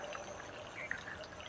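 Water pours steadily into a basin, driven only by pressure from a water tank with no motor running; a faint, short, continuous trickling stream.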